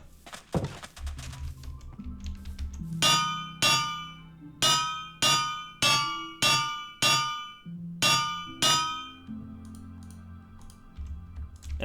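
Runesmith's hammer in a video game striking eight evenly spaced metallic clangs, each ringing out and decaying before the next, loud and close after a softer opening knock.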